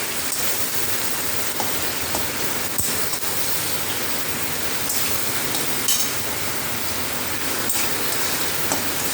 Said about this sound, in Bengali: ভীষণ জোরে জল বৃষ্টি হচ্ছে